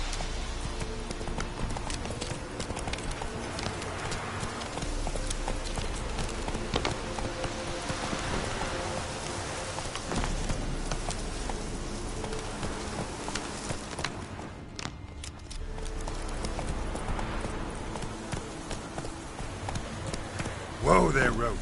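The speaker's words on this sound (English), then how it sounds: "Whoa there, Roach." Hooves of a horse galloping in The Witcher video game, a steady unbroken clatter at close range with a rain-like hiss over it, lasting the whole stretch, and voices talking over it now and then.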